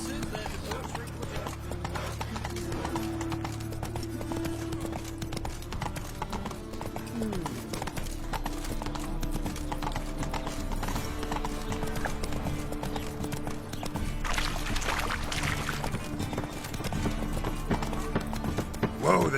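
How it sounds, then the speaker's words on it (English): Horse hooves clip-clop steadily in Witcher 3: Wild Hunt, a continuous trotting rhythm with game background sound throughout. "Whoa there, Roach"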